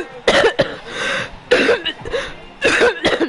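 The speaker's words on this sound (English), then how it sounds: "I just had a cough" A person coughs in a few harsh, close bursts, roughly three coughing fits with brief pauses between them, loud and alone without talk.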